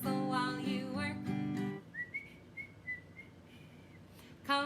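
A group at a Disney classics singalong whistles the melody of a cheerful tune together, a thin wavering line that rises and dips after a sung passage, fairly soft against the room.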